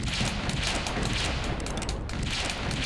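Rapid gunfire rattles in the game The Emperor's Tomb as an even burst of shots repeats steadily over a dense, loud battle din.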